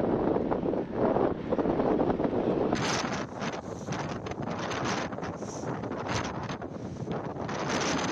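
Loud, gusting storm wind buffeting the microphone, a constant roaring rush with sharper blasts partway through, strong enough to overturn a lorry in Edirne, Turkey.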